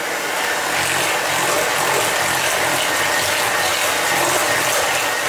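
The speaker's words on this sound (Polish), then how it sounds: "I miksujemy na gładką masę." A mixer whirs continuously and loudly while blending cheesecake batter of sugar and ground curd cheese, a steady dense drone with no talking.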